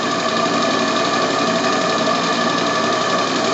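Small steam-driven donkey pump on a steam test under load, running steadily and pumping water, a loud continuous mechanical clatter with a fast even beat and no pauses.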